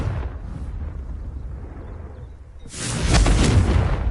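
Confringo blasting spell exploding in Hogwarts Legacy, a loud rumbling boom that swells up after a quieter stretch of ambient noise and sustains to the end.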